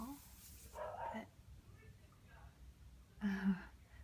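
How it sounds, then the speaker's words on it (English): A neighbour's dog barks outside in a few short muffled bursts, fairly distant, with a louder bark near the end, heard over a quiet indoor backdrop with some room noise. "my neighbor's walking his dog."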